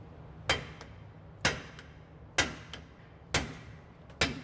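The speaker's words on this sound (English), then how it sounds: "let him grab his hammer, start beating on it" Heavy hammer blows on the pinion of a 2008 Chevrolet Silverado, five sharp metallic strikes about a second apart, loud and close, each ringing briefly.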